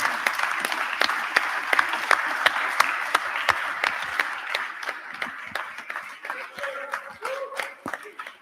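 An audience at a sports press congress applauds steadily, with individual sharp claps standing out over the crowd's patter before it thins out, while a voice speaks faintly near the end.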